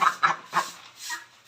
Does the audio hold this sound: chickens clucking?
yes